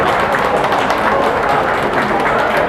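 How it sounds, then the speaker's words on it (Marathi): Applause from an audience at a 70th birthday celebration, a dense, steady wash of many hands clapping together, loud and continuous throughout. "सर्वांनी टाळ्या वाजवा"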